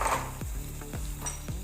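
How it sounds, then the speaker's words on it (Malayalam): Eggs go into a frying malai egg curry gravy. Steady close sizzling and bubbling runs throughout, with a few soft knocks and a spoon scraping against the pan. "ഇനി ഇതിലേക്ക് നമ്മൾ മുട്ട ചേർക്കാൻ പോവുകയാണ്"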